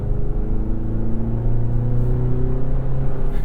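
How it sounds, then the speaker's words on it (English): A loud, steady turbocharged engine drone from a 2023 GMC Canyon pickup rises in pitch as it revs up, with a deep rumble underneath. "Lean into it and hear that turbo."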